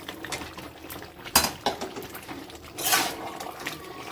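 Fried potatoes tip into a pot of cooking mutton with a couple of clattering knocks and a wet tumbling rush against a low background hiss, close by and short.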